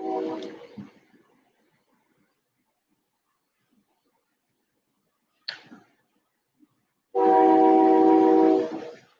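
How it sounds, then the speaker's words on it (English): A train passing in the distance, with a faint rumble followed by a loud sustained horn blast near the end, the horn's bright tones standing out clearly. "There's a train going by"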